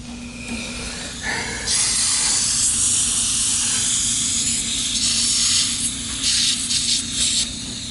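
Leaking gas water heater with water spraying from a hole in its side, a loud, steady, close hiss that surges and wavers in strength, over a constant low hum.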